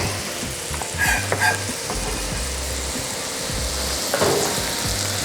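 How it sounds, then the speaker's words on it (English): Mushrooms fry in butter in a pan with a steady, close crackling sizzle, joined by a few scraping stirs. "you want the mushrooms cook for maybe a minute or so after you put the butter in."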